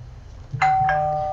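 A doorbell sounds a two-tone ding-dong chime, the first note striking at about the midpoint and the second following shortly after, both ringing out clearly over faint low background hum.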